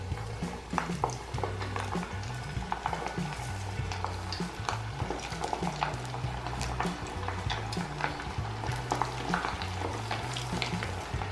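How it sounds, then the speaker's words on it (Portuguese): Stuffed kibe deep-frying in hot oil, a steady dense bubbling sizzle with crackling pops, continuous and moderately close throughout. "Assim que ficarem dourados, já pode retirar do óleo e deixar secando no papel toalha."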